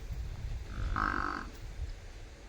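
A single buffalo on a Punjab farm lets out one short, low moo, fairly distant and faint against a quiet rumbling background, with no voices.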